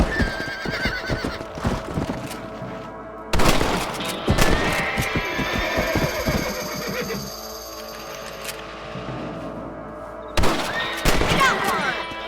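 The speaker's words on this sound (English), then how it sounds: "Better at shooting rabbits than outlaws, I see." Several sharp gunshots ring out in the Red Dead Redemption western video game as rabbits are hunted, mixed with horse whinnies, clip-clopping hooves and a busy game soundtrack, with bursts clustered at the start, middle and end.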